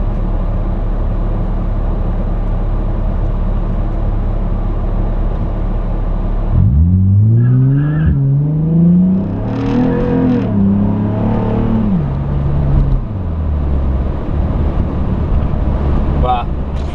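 A car with a VQ35 engine and a lightweight underdrive crankshaft pulley idles loudly, then launches and accelerates hard, the engine note climbing through several gear changes up close.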